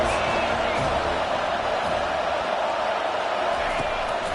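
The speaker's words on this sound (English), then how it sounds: "This crowd trying to make life miserable for this offense." A football stadium crowd roars in a dense, constant wall of noise during a third-down play, with talk blended in.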